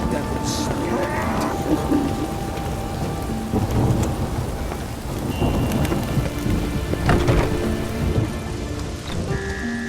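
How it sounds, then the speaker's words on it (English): A video game thunderstorm roars with steady heavy rain and repeated rumbling thunder cracks over ten seconds, loud and continuous, with faint scattered other sounds but no clear talk. "The storm, damn it."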